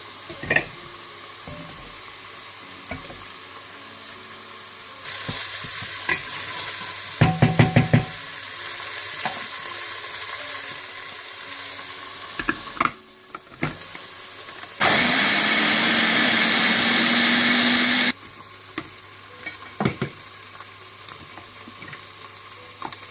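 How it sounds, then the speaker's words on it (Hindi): Ground onion, garlic and ginger fry in hot oil for a halwa puri and chana meal, giving a steady close sizzle with occasional stirring knocks and a louder burst of hissing partway through. "इस तेल में आप ग्राइंड किए हुए प्याज, लहसुन और अदरक डालकर अच्छी तरह से भून लें।"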